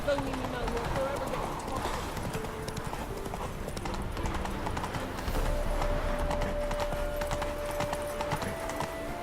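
Roach, the horse in The Witcher 3, gallops with rapid, steady clip-clop hoofbeats close by, continuous through the clip, while a voice talks over them and faint music hums in the background.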